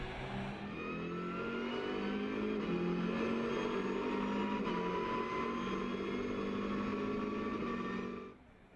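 Lamera Cup race car engines roar steadily as cars speed past on the Red Bull Ring track, loud and continuous, before the noise cuts off abruptly at the end.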